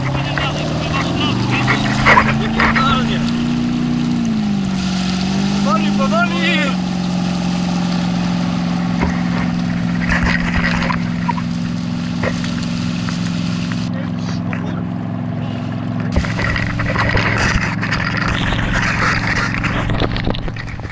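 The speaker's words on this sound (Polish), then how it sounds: "no ale trafiła się motorówka" A motorboat engine drones steadily and close, towing a kayak through waves on the Oder river route toward the Baltic, its pitch wavering slightly while water splashes and voices talk over it.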